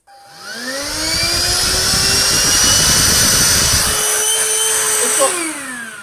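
A Hoover Freedom FD22RP cordless vacuum spins up with a rising whine, then runs loudly and steadily with a high-pitched motor tone and airy rush before winding down at the end.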